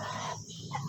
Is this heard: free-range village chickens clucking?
yes